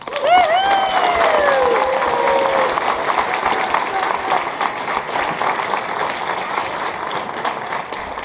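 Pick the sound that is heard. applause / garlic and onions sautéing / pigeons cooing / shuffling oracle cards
applause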